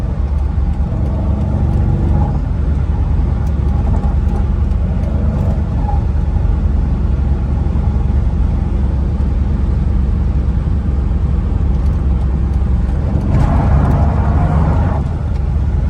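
A Mercedes-Benz SL55 AMG fitted with coilovers cruises on a road, giving a steady, loud interior drone of engine and road noise with no distinct revs or voices.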